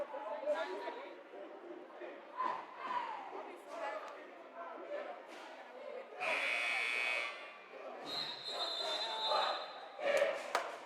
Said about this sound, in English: Buzzer sounds. Timeout's over.